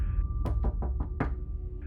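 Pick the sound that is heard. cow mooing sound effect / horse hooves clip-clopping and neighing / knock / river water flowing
knock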